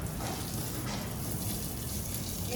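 A steady rush of running water streams out continuously, hissing and splashing without a break, close by and fairly loud.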